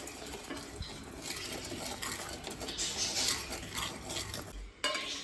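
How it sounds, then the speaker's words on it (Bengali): A spoon scrapes and stirs semolina roasting in a pan over a low flame, a continuous dry rustling scrape with occasional clinks against the metal. "সুজিটা কিন্তু একদম ফ্লেম কমিয়ে অনেকক্ষণ ধরে কিন্তু ভাজতে হবে"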